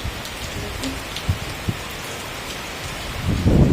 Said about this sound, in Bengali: অনেকে দেখেছি না বৃষ্টি এত কাটছে না